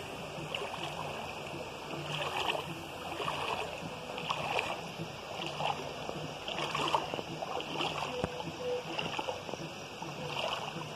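A clear, ice-cold creek at Pousada Richmond in Vargem Alta, Espírito Santo, flows and splashes steadily, a close, continuous babble of rushing water with small gurgles throughout.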